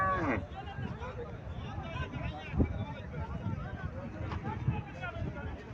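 A Sahiwal cross cow lows with a drawn-out moo close by on a Cumilla farm, mixed with wind buffeting the microphone and people talking in the background.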